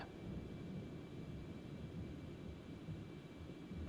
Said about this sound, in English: Sounds like a thunderstorm, and we've got overhead.